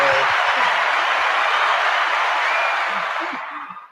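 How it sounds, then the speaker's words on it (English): A museum audience at a Black history event at the Bainbridge Island Museum of Arts applauds in a steady, dense wash of clapping that thins and fades out toward the end. "So, let's give you an applause."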